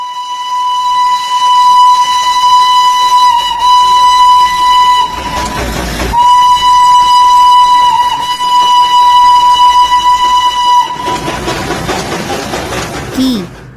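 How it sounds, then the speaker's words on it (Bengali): The Darjeeling heritage toy train, a steam engine, passes with a long, loud, steady whistle tone over rumbling rail noise, broken by a brief gap and ending in a burst of clattering wagons close by. "তোমাদের ঐতিহ্যবাহী টয় ট্রেন দার্জিলিংয়ের বিশেষত্ব হচ্ছে এটি কি সুন্দর ধোঁয়া উঠিয়ে যাচ্ছিল"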